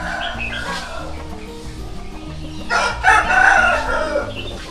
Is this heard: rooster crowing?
yes